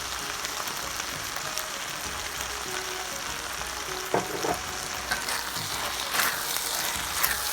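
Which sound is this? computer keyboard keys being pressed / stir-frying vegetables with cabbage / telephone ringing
stir-frying vegetables with cabbage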